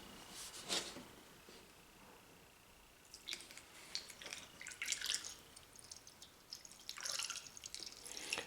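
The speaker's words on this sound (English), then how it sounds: "fill the radiator up to the filler neck. So I'm using the Honda Type 2 coolant" Honda Type 2 coolant pours into the radiator of a 2018–22 tenth-generation Honda Accord during a water pump and thermostat replacement, a soft irregular gurgling and splashing that comes and goes close by.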